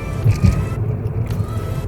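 Citroen DS3 driving through the city, a low engine hum with road rumble and a couple of soft thumps, heard from inside the car.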